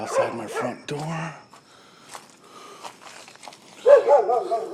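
Dogs barking outside a front door on a pitch-black night, a few close, sharp barks early and a louder cluster later, with people talking in between.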